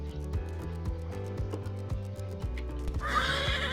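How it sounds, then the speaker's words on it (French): A horse in a Wild West video game neighs and snorts over a steady thumping music beat, with clip-clopping hooves and a sudden hissing burst at the end. "super cheval"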